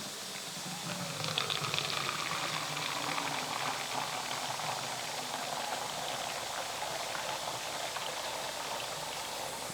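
Freshly made juice trickles and patters through a filter in a kitchen, a steady, close, gentle liquid hiss lasting throughout with no voices.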